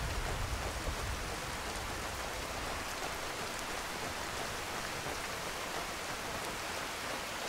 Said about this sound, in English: Raining in sheets.